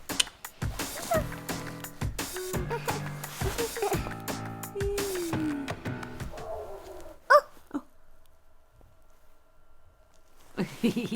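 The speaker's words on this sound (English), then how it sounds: "Oh, a dog." A dog barks and whines repeatedly up close in short, uneven bursts, then falls quiet before a final yelp.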